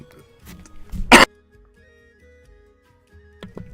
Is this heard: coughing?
yes